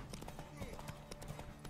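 Horse hooves clip-clop in The Witcher 3 in a quick, steady trotting rhythm, with game sounds and a voice talking over it.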